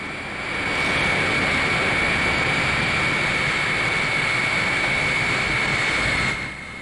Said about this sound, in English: Preparing the old plane for the flight had taken a hand-picked crew of 15 technicians and engineers